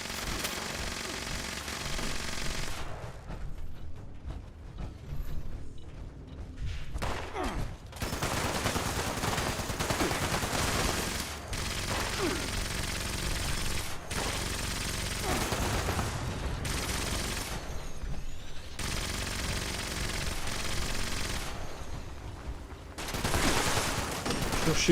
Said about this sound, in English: Just shooting the wall is hyper effective.